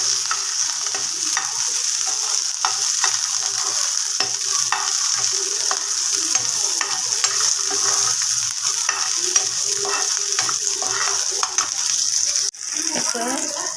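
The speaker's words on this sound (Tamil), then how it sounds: "இப்போ சின்ன வெங்காயம் வதங்கிடுச்சு" Small onions sautéing in a little oil for garlic chutney, a steady broadband sizzle with frequent stirring scrapes that continues close and even throughout, with no talk over it.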